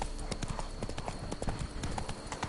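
Roach, the horse in The Witcher 3's Blood and Wine expansion, gallops with quick, close, rhythmic hoofbeats that continue through the brief stretch.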